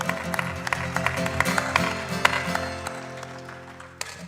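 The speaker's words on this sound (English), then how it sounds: "A round of applause for them, please" Conference audience applauding investors at a venture event, steady moderate clapping with some louder individual claps, sustained for several seconds before tapering off.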